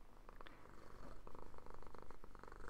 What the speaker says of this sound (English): I'll just give you a little bit of pet therapy there with some purrs.